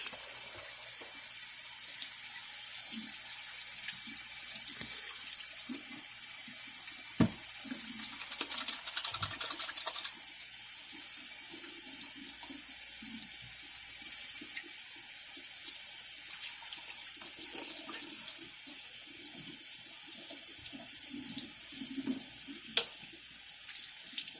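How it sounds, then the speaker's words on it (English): Tap water running into a kitchen sink during hand washing, a steady close stream with occasional splashes and hand movements under the flow, no voices. "Give my hand a quick wash."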